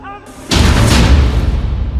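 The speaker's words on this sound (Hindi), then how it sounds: "डबल धमाका, डबल हमला" Explosion in Hamas war footage from Gaza, a sudden loud boom that bursts in after a quieter opening and then rumbles and decays over the remaining seconds.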